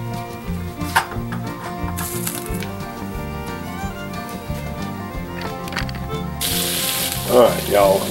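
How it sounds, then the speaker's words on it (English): Kielbasa sizzling softly in a skillet with olive oil, a steady low crackle under background music, with clattering utensils and a short hiss burst near the end. "I've got my kielbasa warming up here"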